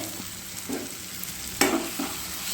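Fried pointed gourd (potol) is stir-fried in oily spices in a pan, a steady close sizzle with a few sharp scraping stir strokes.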